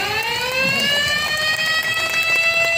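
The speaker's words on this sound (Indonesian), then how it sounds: "Bupati Aceh Tamiang Mursil menandai peluncuran ini dengan membunyikan sirine di hadapan seratusan peserta dan unsur Forkopimda." Siren sounded to launch a Car Free Day event in Aceh Tamiang, a loud sustained wail with a steady tone rising slowly in pitch, heard alone without talk.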